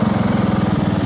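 A riding lawn mower's engine runs close by, a loud steady throbbing idle with a rapid regular pulse and no voices.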